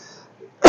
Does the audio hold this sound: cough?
yes